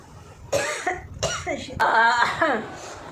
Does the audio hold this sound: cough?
yes